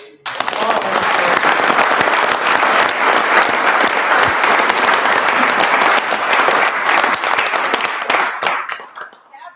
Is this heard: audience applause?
yes